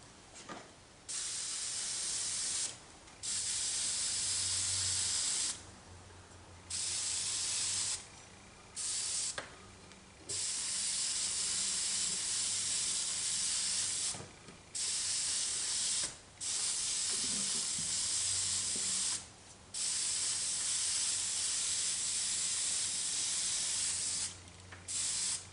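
Aerosol spray paint hisses in repeated bursts while a third coat is applied to a restored Dinky toy, the close, steady sprays lasting a second to several seconds and separated by short pauses.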